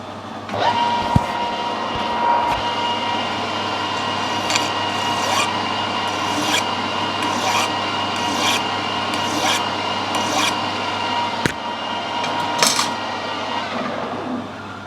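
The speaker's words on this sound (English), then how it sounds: "Put a little chamfer on the end of there." A Stuart steam engine valve spindle gets a small chamfer filed onto its end, giving a sustained rasping scrape over a steady machine hum, with occasional sharper clicks and taps.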